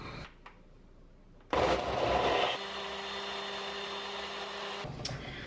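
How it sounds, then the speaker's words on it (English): A blender mixes a tofu, peanut butter and chocolate ice cream base. Soft handling clicks come first, then the motor kicks in with a loud roar that settles into a steady whine, and it cuts off near the end. "And now I'm gonna blend this up."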